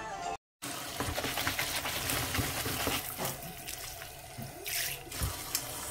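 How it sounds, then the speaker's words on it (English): Water runs in a home while soapy water is prepared for scrubbing the walls of a kid's room. A soft, continuous splashing and trickling carries on with a few small knocks and no talk. "Soapy water."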